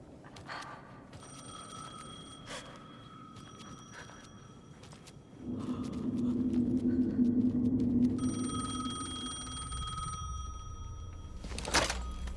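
A telephone in Alan Wake 2 rings in repeated bursts with sharp thuds between them, while a low rumbling drone swells midway and stays to the end.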